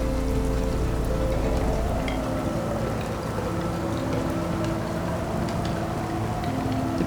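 Heavy rain falls steadily on a sailing boat near a glacier lagoon on Svalbard's northwest coast, a dense close hiss of drops on surfaces with a low engine drone underneath, fading slightly partway through.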